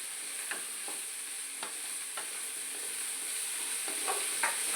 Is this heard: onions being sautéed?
yes